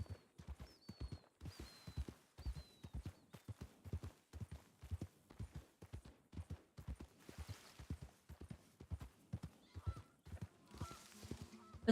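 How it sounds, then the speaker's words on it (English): A horse in Red Dead Redemption trots along a trail, its steady clip-clop hoofbeats repeating in an even rhythm, with a few faint bird calls and a brief whinny-like cry behind them and no voices. "Is that a wild horse?"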